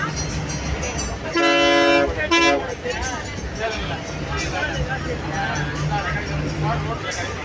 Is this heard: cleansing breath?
no